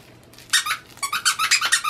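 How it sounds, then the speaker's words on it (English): A dog's squeak toy from a Fab Dog Circus Ticket in a BarkBox is squeezed over and over. It gives a fast, even run of loud, close, squeaky honks, about eight in two seconds. "So it looks like it is a squeak toy and a little bit of like a crunch to it too as well."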